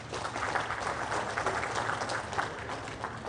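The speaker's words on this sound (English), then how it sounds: "Help me applaud Mr. President." An audience applauds the President at a housing event in Africa, a steady wash of many hands clapping from a little distance, fairly even and sustained with no clear voices.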